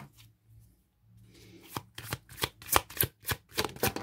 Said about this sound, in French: Donc je vais le battre, je vais sortir 4 cartes